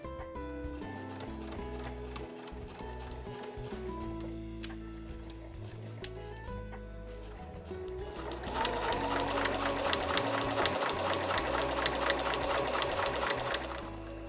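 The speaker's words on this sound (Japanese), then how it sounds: "重なりのあるところは返し縫いをします。" A domestic sewing machine backstitches over overlapping fabric layers of a reversible drawstring tote bag. It starts with a slower, uneven mechanical whirr, then settles into louder, fast and steady stitching near the microphone.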